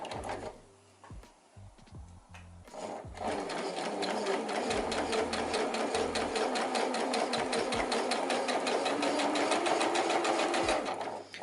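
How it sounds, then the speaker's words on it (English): A sewing machine stitches around the edge of an infinity scarf. A few short bursts and pauses give way to a long, steady, fast whirring run close by. "I'm going to sew all the way around until I get to the last pin"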